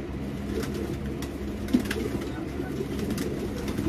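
Racing pigeons in a loft cooing softly, a low, continuous murmur of bird calls with one brief louder bump partway through.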